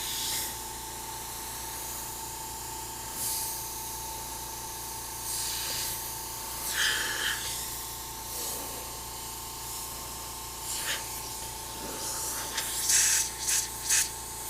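An airbrush sprays paint while a chain is being painted, a steady close hiss with a constant compressor drone beneath it and short bursts of spray throughout, with no talk.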